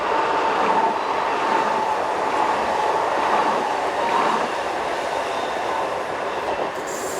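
A small Swedish commuter train, the kind running between neighbouring cities like a subway, rolls past with a steady loud rumble of wheels and carriages, holding constant throughout and easing slightly at the end.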